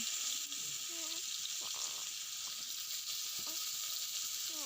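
Onions frying in oil with a bay leaf, cloves, cardamom, cinnamon and turmeric give a steady, close sizzle with light stirring, and faint voice traces sit underneath.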